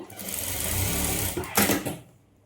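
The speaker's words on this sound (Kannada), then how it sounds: "ಶೋಲ್ಡರ್ ಹತ್ರ ಮಾತ್ರ ಎರಡೂ ಸೇರಿ ಒಂದು ಸ್ಟಿಚ್ ಹಾಕ್ಕೊಳ್ಬೇಕು" A sewing machine stitching the shoulder seam of a patchwork blouse, a close, fast mechanical whir running for about two seconds before it stops.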